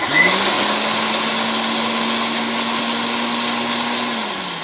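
A small mixie grinder whirs steadily while blending biscuits, a loud continuous motor whine that holds for about four seconds before winding down at the end.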